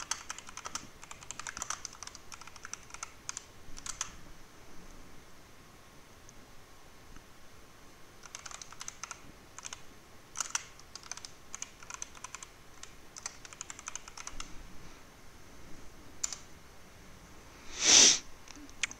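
Several computer keyboards clatter in bursts of quick, light keystrokes during an online iRacing session, faint and scattered across the stretch, with a short loud sniff or snort near the end.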